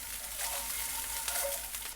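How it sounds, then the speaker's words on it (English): Steady crackling sizzle of hot oil in a pan, a dense hiss with small pops, continuous and close. "the oil might slightly splatter, but don't run away"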